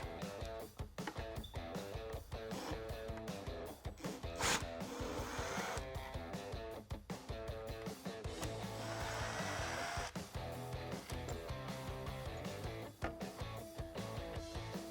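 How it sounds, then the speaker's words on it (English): A ratchet clicks in quick bursts while removing the inner screws of a Jeep Wrangler JK taillight housing, with a steady music bed running underneath throughout. "we're going to be removing the 2 inner ones to get the whole taillight housing removed from the Jeep"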